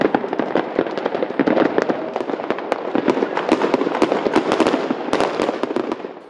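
New Year's fireworks at a care centre in Middelburg crackle and pop in a dense, continuous barrage of sharp bangs, loud and close, with no talking.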